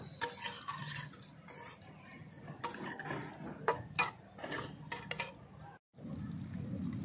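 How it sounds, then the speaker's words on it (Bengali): Chicken pieces with garlic being stirred and braised in a pan for a masala curry: steady scraping and clinking of a spatula against the pan over a soft sizzle, close and fairly quiet. "চলো মাংসটাকে ভালো করে এবার কষিয়ে নেব।"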